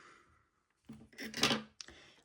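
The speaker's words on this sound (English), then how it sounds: "take your scissors and cut it" Scissors cutting crochet yarn up close, a few quiet snips and rasping blade sounds after a brief pause, soft and close in a quiet room.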